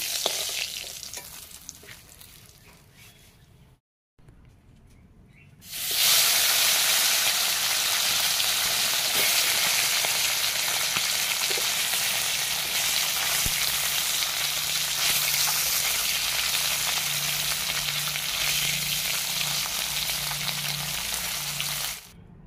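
Fish sizzles loudly and steadily in hot oil while being half-fried for a curry, a dense continuous crackle that starts after a short quiet pause and keeps on alone to the end.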